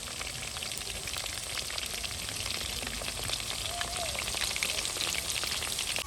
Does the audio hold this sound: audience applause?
no